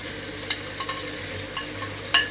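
Onion, garlic-ginger paste, green chillies and tomatoes frying for a mutton and potato curry, a soft steady sizzle broken by a few sharp scraping stirs of a spoon in the pan, close and alone.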